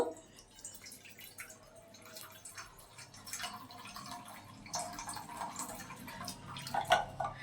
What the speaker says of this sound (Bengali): দিয়ে এবারে আমি এটাকে জল দেব।